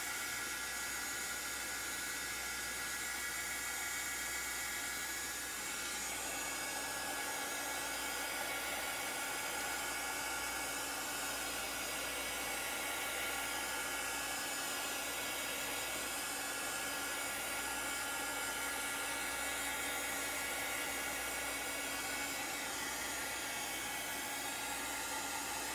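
A craft heat tool drying chalk paint on a mini pillow blows with a steady, loud, continuous whooshing hiss that holds constant throughout, with no talking.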